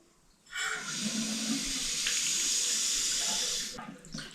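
Tap water runs steadily into a hotel sink for about three seconds, a close, bright hiss that starts and stops abruptly, with no speech.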